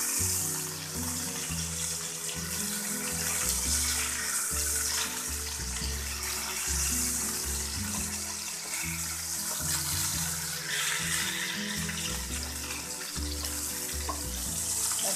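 Bombay duck fish coated in rava and besan frying in a pan at home, a steady loud sizzle and crackle that runs on without a break, no voices.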